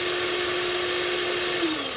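A drill bores steadily through brittle plastic on a Star Wars snowspeeder model kit part, a continuous close whine holding pitch for two seconds before dipping slightly near the end.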